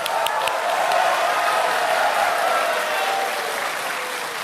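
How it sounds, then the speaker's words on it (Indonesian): A crowd at a 2014 Indonesian presidential debate applauds steadily, many hands clapping together in a sustained wash that tapers slightly toward the end. "Kita tepuk tangan."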